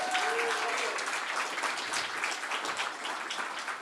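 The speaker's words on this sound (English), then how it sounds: "please give James and the Autobiographer team a round of applause" An audience at a live event applauds the Autobiographer team with a sustained burst of clapping that holds steady and fades slightly toward the end. The applause is moderately loud and heard alone.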